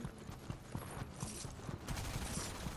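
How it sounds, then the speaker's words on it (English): Rapid crackling pops and bangs of fireworks in Fortnite, a dense, uneven burst of bursts sounding close and fairly loud, with no talking over it. "Watch the fireworks."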